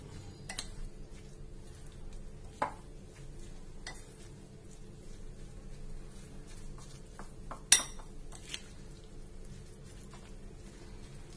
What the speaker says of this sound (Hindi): थोड़ी सी सोया सॉस, थोड़ा से कलर अच्छा आ जाएगा, टेस्ट भी आ जाएगा। चलिए, अच्छे से इसे मिक्स करते हैं।